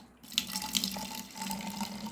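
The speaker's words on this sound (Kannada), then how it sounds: "ನೀರು ಹಾಕಿಕೊಳ್ತಾ ಇದ್ದೇನೆ." Water trickles and splashes into a small spray bottle for a plant-care mix, a quiet, close liquid pouring sound with faint drips.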